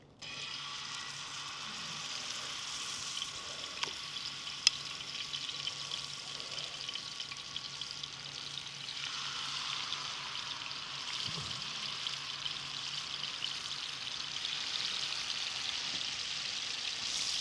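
Marinated chicken fillets frying in a hot pan, a steady hiss and sizzle that runs throughout at moderate loudness, with faint clicks and small clatters now and then.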